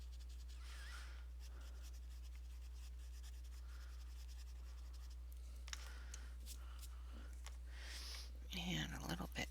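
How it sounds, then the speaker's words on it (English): Pastel being rubbed off paper with an eraser, a quiet dry scratching and rubbing in short strokes over steady background hum, growing a little louder and busier near the end. "we're just going to erase off the pastel in this area"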